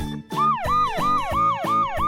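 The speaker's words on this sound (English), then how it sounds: "Ambulance." An ambulance siren wails in a fast, repeating rise-and-fall pattern, loud and close, with about five even cycles in two seconds and no voices.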